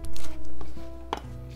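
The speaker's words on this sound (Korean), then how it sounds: "파란 부분은 가르지 말고 그냥 막 잘라주세요." A knife chops the green parts of Korean leek (daepa) for tteokguk, making a few quick, close cutting taps on a board with short gaps between them.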